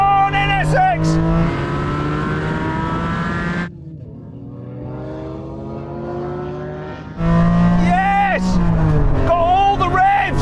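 A Honda NSX launches in a drag race, its engine revving loud and harsh, dropping through a gear change, then roaring high again, while excited voices talk over it.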